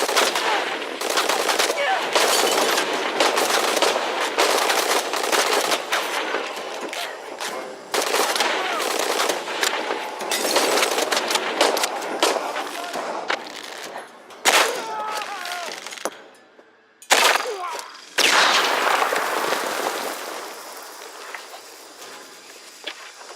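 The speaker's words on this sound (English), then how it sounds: "Open fire! Got a hostile! Keep firing!" Heavy gunfire in the Shadow of the Tomb Raider video game: dense bursts of automatic fire and single shots, loud and close, with brief pauses and a near-silent gap late on, mixed with shouted in-game voices.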